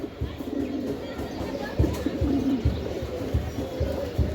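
Giribaz pigeons coo softly nearby in low, repeated throaty pulses, faint and close, with a voice talking over them.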